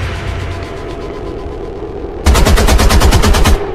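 Rapid automatic gunfire in XCOM 2 rings out as a loud, close burst of about a dozen evenly spaced shots over a low battle rumble.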